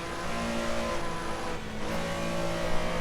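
A Porsche race car engine in the Assetto Corsa driving game drones steadily from an outside replay view, a constant mid-pitched hum with slight rises in revs, moderately loud and with no talking.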